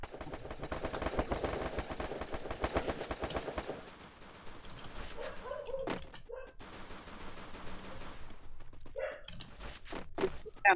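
Rapid automatic gunfire in the Free Fire video game, dense bursts of shots for several seconds, then scattered single shots and short volleys with brief gaps, moderately loud.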